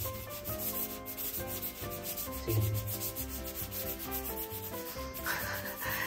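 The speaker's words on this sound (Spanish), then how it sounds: "Lo vamos a lijar un poquito, a una mijita, para no arañarla mucho" Steady, scratchy rubbing of fine sandpaper worked back and forth close by, with sustained musical tones running underneath.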